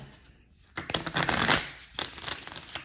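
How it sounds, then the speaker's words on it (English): Tarot cards being shuffled close up, a soft riffle and several quick papery flicks in bursts, fairly quiet. "All right, let's shuffle."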